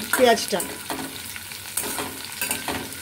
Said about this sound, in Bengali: এবার এই তেলটা খুব ভালো করে ভেজে নিতে হবে।